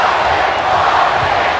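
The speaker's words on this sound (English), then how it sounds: "Crowd chanting for Stone Cold Steve Austin." A wrestling arena crowd chants for Stone Cold Steve Austin at a WWF Sunday Night Heat broadcast, a loud, dense roar of massed voices that holds steady from start to finish.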